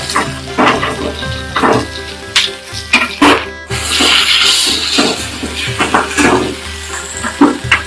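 Small onions dropped into hot oil in a pan for a village-style fish curry give a loud, continuous sizzle and crackle, with stirring scrapes and bubbling throughout and no voices.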